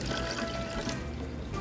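Water poured into a blender jar with eggs for cake batter, a brief steady close splashing trickle heard on its own.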